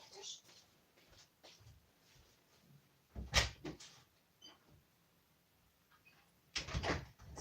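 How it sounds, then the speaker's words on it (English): A room door is opened in a quiet house with a cat nearby. Two short, faint knocks and clatters stand out against a near-silent background, with a soft voice murmuring at times. "I will open the door of the room"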